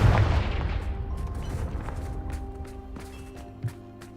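Confringo explosive spell cast in the video game Hogwarts Legacy: a heavy boom that rumbles and fades, followed by quieter crackles and faint game effects.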